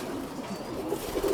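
Cock pigeons coo softly inside a loft, low rounded murmurs that swell toward the end over quiet background noise.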